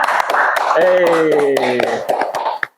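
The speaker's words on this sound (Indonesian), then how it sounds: "Tepuk tangan ya." An audience claps its hands during an Indonesian talk show about village administration, with quick irregular claps throughout, while a voice sounds over the middle of the clapping before it dies away.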